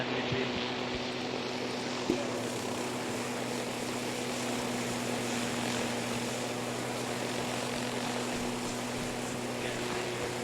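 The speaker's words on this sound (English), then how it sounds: "We're gonna have to get in the Huey." A Huey helicopter in a video game drones steadily as a constant rotor and engine hum, fairly faint and unbroken, with quiet voices now and then.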